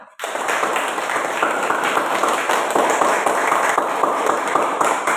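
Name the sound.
classroom applause for the students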